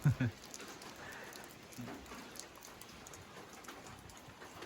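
Rain falling outdoors during a midday rainy spell, a soft continuous patter with scattered drips, preceded by a brief louder knock at the start; a faint voice is briefly present.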